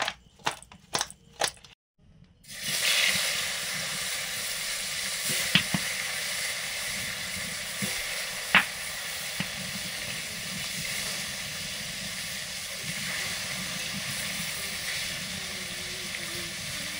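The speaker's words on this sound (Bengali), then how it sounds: "সর্ষের তেল, কই মাছগুলো ভাজবো।" Koi fish frying in mustard oil, a steady loud sizzle that starts after a few brief clicks and runs continuously, with occasional sharper spits and pops.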